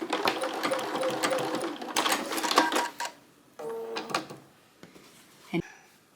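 A sewing machine stitches along a folded fabric edge in a quick rattling run, then stops and restarts in short bursts with clicks and quiet handling between.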